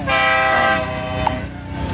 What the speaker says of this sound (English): sorry, there's a train. There's a train going by.